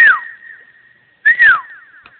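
A person whistles two short sliding notes, each swooping up and then falling, separated by about a second of silence, close and clear with no talking.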